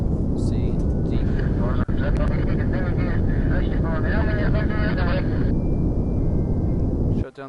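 A rocket engine roars steadily in a video game, a loud continuous rumble for about seven seconds before cutting off abruptly, with a voice talking over it.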